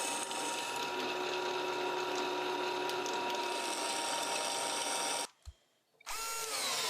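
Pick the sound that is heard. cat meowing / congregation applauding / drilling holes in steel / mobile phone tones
drilling holes in steel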